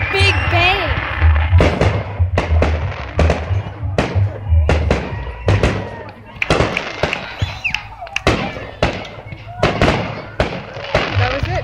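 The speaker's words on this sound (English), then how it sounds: "there's baby fireworks going on from humans over there" Fireworks at a July 24th show burst in a rapid irregular series of loud booms and crackling pops, some close and sharp, others echoing, with people talking and reacting between the blasts.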